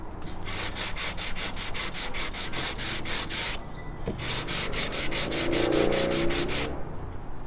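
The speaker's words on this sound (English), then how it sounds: "I'm just going to sand off the filler that I put in yesterday" Hand sanding of dried filler on a Nordmende Rigoletto 59 radio scrapes back and forth in quick, regular strokes, two bursts separated by a short pause, close and fairly quiet.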